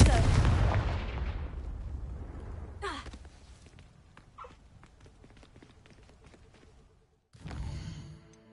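In the Hogwarts Legacy video game, the Confringo spell explodes with a loud, booming blast that rumbles and fades over several seconds, followed by light thuds and footsteps before a brief second burst.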